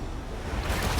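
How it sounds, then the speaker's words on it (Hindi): A big ocean wave rolling in and crashing near a small island, a loud broadband wash of surf that swells toward the end, heard alone without talk. "ये आई बड़ी लहर।"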